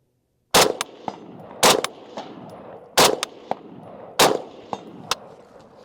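A Steyr AUG rifle fires four sharp, loud shots at roughly one-second intervals, each followed moments later by a fainter metallic ring from steel targets 140 yards away, with echoes trailing between shots.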